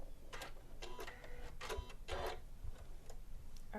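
A Janome sewing machine stitches fabric in a steady run of short mechanical bursts, with a clicking, ticking rhythm close by and no talk.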